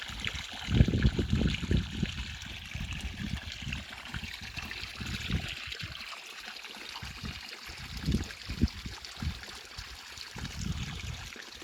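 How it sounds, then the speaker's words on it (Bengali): Irrigation water runs steadily from a pipe to the base of green malta trees on a farm, a continuous soft rushing flow with no talk over it. "এই যে পানি আসতেছে পাইপের মাধ্যমে"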